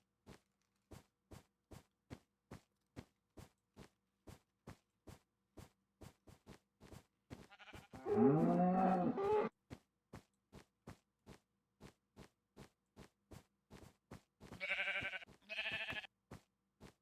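A Minecraft cow gives one short moo partway through, set among evenly spaced dry clicking taps from footsteps and hits, followed later by a couple of brief higher-pitched hurt sounds.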